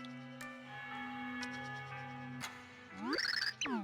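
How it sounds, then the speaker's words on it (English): Bells chime in the video game Super Paper Mario, a bright, rapid cluster of high ringing tones near the end, rising over a sustained musical drone with soft ticking accents. "I hear bells. How lovely."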